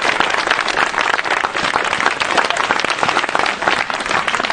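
A church congregation claps and applauds in praise, a dense, steady wash of many hands close around, continuous and loud with no pauses.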